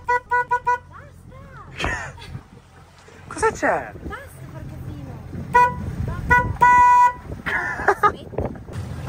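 A car horn toots in short repeated beeps at Milano Marittima, near and loud, while people talk and a vehicle rumbles underneath.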